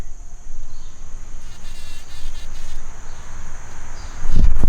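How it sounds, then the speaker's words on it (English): A bee buzzing around outdoor garden planters of lavender and perennials, a steady, continuous drone that wavers as it moves near and away, with a louder close pass at the end; no talking. "this bee is being so funny"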